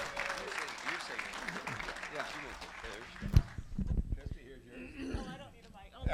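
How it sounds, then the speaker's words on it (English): Audience applause at an auctioneering college class auction, breaking out for two singers before the national anthem; brisk clapping for a few seconds, then fading into scattered claps, thumps and voices in a large room. "How about a round of applause for Christie and Randy?"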